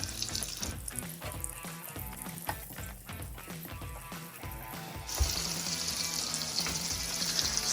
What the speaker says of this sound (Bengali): এখানে বাটারটাকে মেল্ট করে নিচ্ছি।